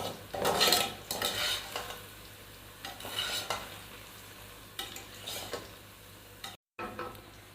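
Okra frying in hot oil sizzles quietly while a utensil scrapes and clinks in the pan as the pieces are lifted out, with bursts of clatter and a brief dropout near the end.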